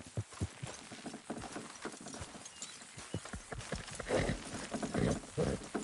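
Horse hooves clip-clop in Red Dead Redemption 2, a steady run of close, sharp hoofbeats that grows louder toward the end, with brief voices over the top.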